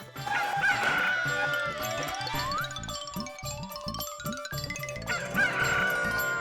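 A rooster crows in long rising calls alongside tinkling and honking tones, loud and up close, with no talking.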